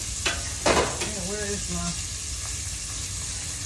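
Cabbage frying in a pan on a stovetop, a steady broadband sizzle with stirring clatter and popping bursts early on, while someone talks over it.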